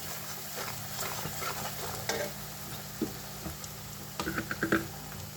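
Spinach masala for Punjabi-style palak paneer simmers with a faint, steady sizzle in a pan, then a quick run of clacking spoon strokes near the end as it is stirred.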